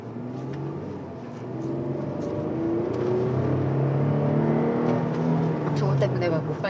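A Chevrolet Colorado pickup truck accelerates hard while being driven, its engine note climbing steadily and smoothly inside the cab as people talk over it.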